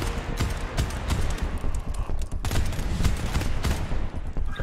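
Submachine-gun fire in the co-op shooter GTFO rattles out as rapid, dense bursts of shots that carry on almost without a break, loud and close.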